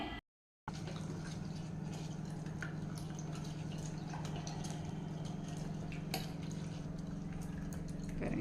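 Turkey berries are washed and squeezed by hand in a bowl of water, giving soft, continuous wet swishing and dripping sounds, close and fairly quiet, with no talking.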